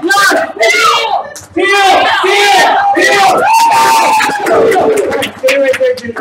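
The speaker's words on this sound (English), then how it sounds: "Cheer on, everyone." A live game show audience cheers and yells loudly in waves, with shouts and whoops from the crowd nearly the whole time.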